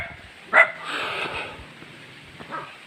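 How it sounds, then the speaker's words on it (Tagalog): Dogs bark outdoors at a short distance, with one sharp bark and a couple of fainter yips over steady background hiss. "May mga aso po nag-welcome sa atin."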